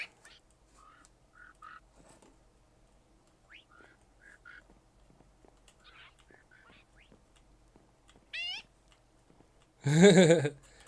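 Confuciusornis birds in a zoo-building video game give sparse chirps and trills at moderate distance, scattered through quiet, with a louder warbling call near the end.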